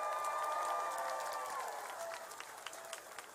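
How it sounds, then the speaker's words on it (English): Audience applause at a high school event for The Miz, a dense sustained clapping from a crowd that fades gradually over a few seconds, heard without speech. "he deserves a round of applause"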